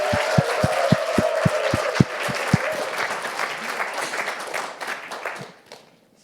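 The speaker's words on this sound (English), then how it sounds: "please, fellows, give a big round of applause for our first pitcher" An audience gives a fellowship pitch event's first pitcher a round of applause, with a few loud individual claps standing out over a dense, steady crowd clapping that fades away near the end.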